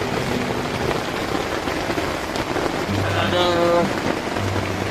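Rain falling on a tent on Mount Slamet, a dense, steady patter close overhead, with people talking briefly over it.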